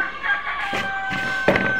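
Two-day-old hatchery chicks cheep in a steady, shrill chorus, with a few louder peeps rising near the end.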